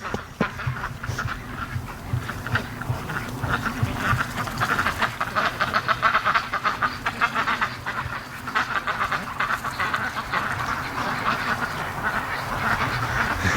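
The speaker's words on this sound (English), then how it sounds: "Oh, Muscovy just flew in to see us here. Flock's coming over to see what's going on here." Muscovy ducks and a breeding flock quacking outdoors, a busy chorus of overlapping quacks and calls from close by, with occasional brief talk.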